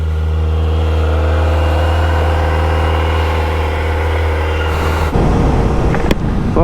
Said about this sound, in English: cold start begins.